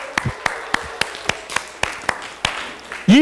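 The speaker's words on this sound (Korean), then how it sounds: "자, 박수 한번 할까요?" A slow, rhythmic clap in a church youth worship service, with about ten distinct claps spaced roughly a quarter-second apart. A voice cuts in loudly at the very end.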